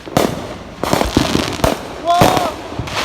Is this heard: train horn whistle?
no